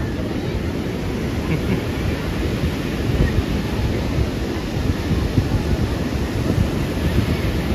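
Ocean surf on the beach at Puri, a steady, loud, dense wash of breaking waves with wind rumble and no clear pauses.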